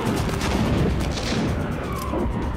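Loud, sustained rumbling blasts of a starship's forward cannon in a Star Wars: The Clone Wars battle, like heavy cannon fire, dense and booming with no pauses, drowning everything else.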